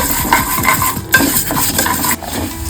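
Moong dal being stirred and dry-roasted in a pan for sweet pongal makes a loud, rhythmic scraping and rattling of grains against metal, close and continuous, with no talk.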